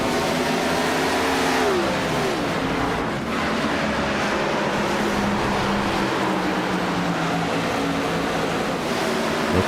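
A pack of race cars in a racing video game league event at Suzuka International Circuit accelerates from the green-flag start: a loud, dense, continuous engine roar with several overlapping tones rising and shifting in pitch, steady throughout with no talking.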